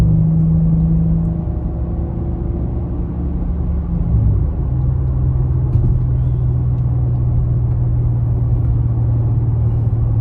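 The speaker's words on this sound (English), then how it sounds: "so you can definitely hear the exhaust a little bit more." A deep, continuous exhaust rumble from a BMW M3 Competition xDrive (G80), low and steady, with a slight pitch drop midway as the revs ease.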